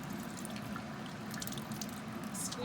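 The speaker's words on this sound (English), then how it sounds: "Open the tuna, drain the water." Water drains from an opened can of tuna with a steady drip and trickle, close and fairly quiet, without talk.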